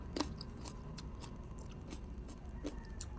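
Crunching bites into a wild cucumber salad, a few faint, crisp chewing crunches close up over quiet background, no talking.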